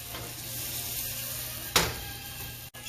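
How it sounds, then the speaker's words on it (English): Small alligator bites frying in a pan, a steady soft sizzle running throughout with one brief louder crackle burst partway through. "It's probably a little long for them to be frying up"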